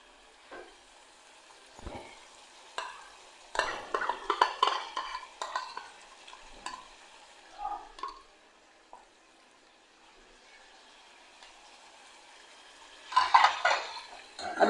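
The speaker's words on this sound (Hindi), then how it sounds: "अब इसको लहसुन अदरक के पेस्ट में अच्छे से लाल कर लेंगे।" Mutton liver fries in ginger garlic paste, quiet sizzling punctuated by bursts of stirring and utensil scraping against the pan, growing louder in clusters.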